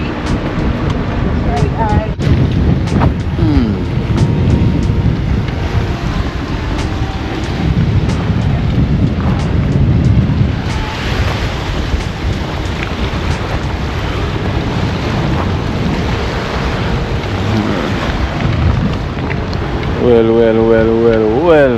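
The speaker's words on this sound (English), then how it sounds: "Whoa, it is windy." Strong wind blasts across a microphone on a black-sand beach by the sea, with waves and surf rumbling underneath. A voice speaks briefly near the end.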